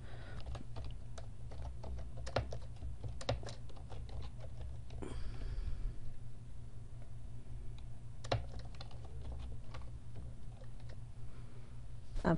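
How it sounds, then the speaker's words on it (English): Quick, steady keystrokes on a computer keyboard as a chart title is typed in, with a few louder key presses standing out. A constant low hum sits underneath and no one speaks. "I'm going to type in the title"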